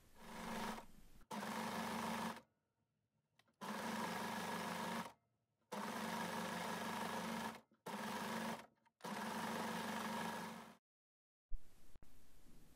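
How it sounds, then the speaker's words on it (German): An overlock sewing machine stitches a long seam in several loud, close bursts of fast whirring, each running one to two seconds, separated by short silent pauses. "Und dann nähe ich diese lange Naht mit der Overlock."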